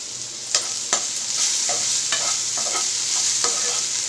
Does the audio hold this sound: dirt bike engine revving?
no